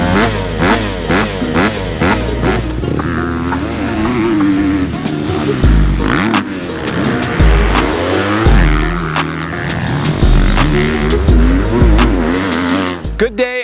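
A 2024 Husqvarna FC250 motocross bike rips around a dirt track, its high-pitched four-stroke engine revving hard and rising and falling through shifts, loud and close for the whole stretch.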